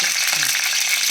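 Ghee tempering for a garlic chutney powder sizzles loudly and close in a pan, a continuous crackling hiss across the whole brief moment.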